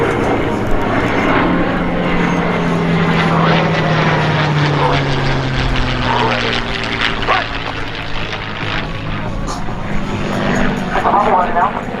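A P-51 Mustang and an F4U Corsair flying past together at the MacDill Tampa air fest, a continuous propeller engine drone that swells and shifts in pitch, with crowd noise and announcer talk over it.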